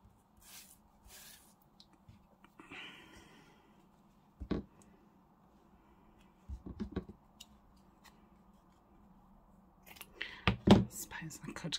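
Scissors snipping lace tabs, a few quiet scattered cuts with sharper snips clustered near the end, close by over faint low murmuring.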